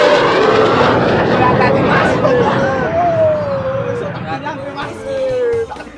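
An airplane's engine whines and hums while a crowd chatters nearby, a tonal whistle sliding through the middle as voices babble over the background.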